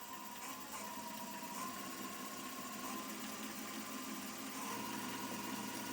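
An engine runs steadily at 1,200 RPM with a buzzing, sewing-machine-like whir and a faint high tone, holding an even level throughout, with a slight low hum entering near the end.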